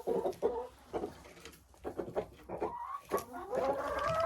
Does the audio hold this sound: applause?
no